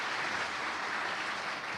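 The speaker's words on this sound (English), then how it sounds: "Round of applause." Audience applause at a forum on food loss and waste, a moderate, steady patter of many hands clapping at an even level throughout.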